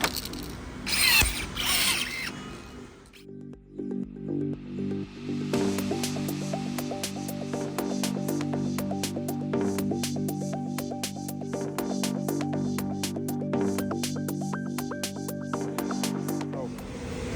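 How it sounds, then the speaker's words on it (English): A rivet tool sets blind rivets into a BMW X5 rear quarter panel during end panel replacement, a steady whirring mechanical drone with rapid rhythmic clicking and ratcheting, after a brief rustle of handling at the start. "now we're going to use the Giuseppe AccuBoard, get these rivets into place"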